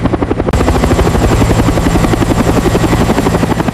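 A restored Black Hawk helicopter hovers close by in a test flight, its rotor thumping in a steady rapid rhythm over a loud turbine whine that fills the scene continuously.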